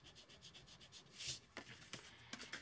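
A pencil or marker lightly rubs across a piece of designer series paper while marking a line, soft scratchy strokes that come in short bursts, quiet and close with no talking.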